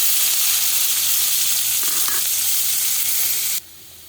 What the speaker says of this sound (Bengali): এবার আমি পেঁয়াজ কুচিটাকে ভাজবো।